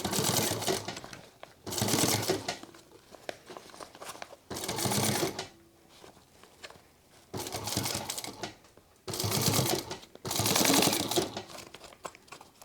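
Sewing machine stitching fabric and webbing for a sling crossbody bag: six or so short, loud bursts of rapid needle clatter separated by quieter pauses, close up and with no talk.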